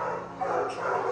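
Several dogs at an animal shelter, a husky among them, barking and whimpering continuously at close range amid steady kennel noise, with no clear speech.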